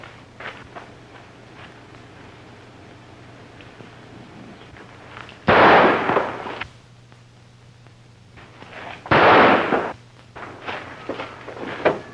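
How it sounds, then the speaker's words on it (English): Two loud, sharp gunshots ring out with a short echoing tail, several seconds apart, in an old western film scene with quiet room tone between them. "you think that shot was meant for me?"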